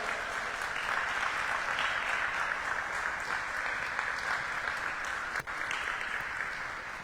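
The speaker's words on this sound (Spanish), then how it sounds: "Denle un aplauso al Señor" Congregation applause at a Spanish-language church service fills the space as an even, sustained roar of many hands, steady from start to finish with no talk.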